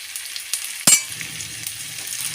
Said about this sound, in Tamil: இது நல்லா பொன்னிறமாக வதக்கணும்